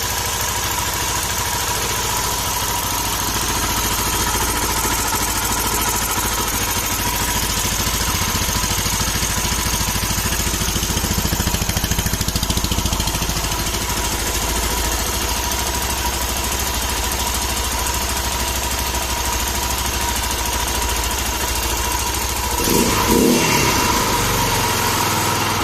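Armstrong MT500 classic British motorcycle engine running on choke, a loud steady idle with rough, uneven throttle rises throughout, close by and sustained, with a short burst of louder revving near the end.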